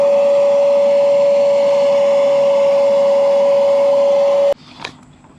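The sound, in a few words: portable vacuum cleaner running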